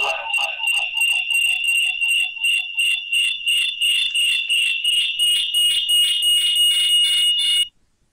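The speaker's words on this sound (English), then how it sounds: "that is why a beep sound was coming" A rapid electronic beeping repeats in an even, fast pulse for several seconds, loud and shrill, then stops abruptly.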